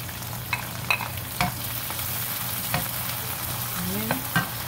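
Chopped tomatoes sizzle and fry in a pan of oil for ginisang monggo, with a steady hiss broken by a few sharp spatters and the scrape of stirring.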